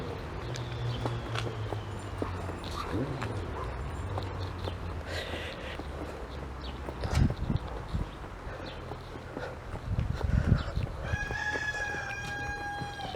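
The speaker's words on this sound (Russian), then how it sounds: "Петушок поет." A rooster crows in a village with wooden boardwalks, a clear multi-note crow near the end after distant clucks and scattered footsteps and knocks, with no one speaking.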